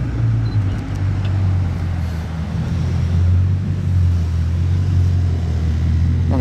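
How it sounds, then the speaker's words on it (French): A Bugatti Chiron Noire Edition with its W16 engine passes in Monaco, a steady loud low rumble that holds through the whole stretch with slight swells as it drives by, no talk over it. "Ça sonne très fort le W16 là."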